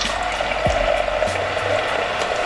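A Keurig Kold home soda machine dispenses carbonated water with a steady hissing, gurgling flow and a brief mechanical clunk partway through.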